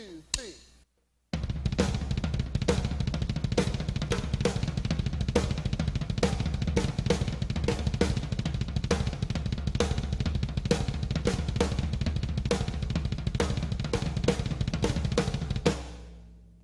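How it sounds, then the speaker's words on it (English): Full drum kit grooving in a halftime feel with a heavy snare backbeat over steady cymbal and kick pulses, loud and continuous after a brief pause near the start, with no talking. "to create sort of a halftime snare backbeat feel"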